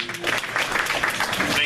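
Brief burst of applause from attendees at a Clark County Republican Party precinct committee officers' meeting, a dense steady clatter of clapping lasting under two seconds.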